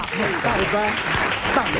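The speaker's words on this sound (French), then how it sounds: "vos applaudissements" An audience claps together in a brief burst of applause, mixed with voices talking and cheering over it.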